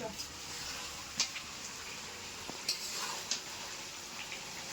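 Goat meat sautéing in a pan gives a faint steady sizzle, with occasional scraping stir strokes and light clinks scattered through it.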